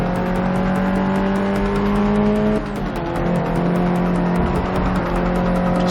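A race car in Forza 6 holds a steady, loud engine note under throttle, then briefly dips at a gear change or lift before the drone resumes, with faint tire noise and no talking.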